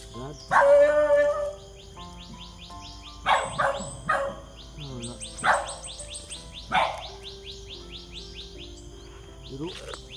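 A dog barks several times in short bursts, fairly close, with bird chirps and whistling calls scattered around it and a quiet background hum.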